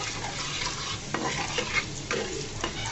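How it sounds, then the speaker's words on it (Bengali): Garlic frying in oil in a pan until reddish-brown, giving a steady close sizzle with a few light clicks of a spoon stirring through it, no voices. "রসুনটাকে একদম লাল লাল করে ভেজে নেব।"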